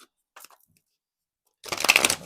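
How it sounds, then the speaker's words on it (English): A brief riffle of tarot cards being shuffled, a quick papery burst after a few faint taps and a short silence. "One more shuffle."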